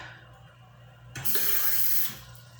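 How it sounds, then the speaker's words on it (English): A faucet turns on at once and water streams steadily into a sink for about a second, then cuts off, over a low background hum. "Like the water that I can get out of the sink."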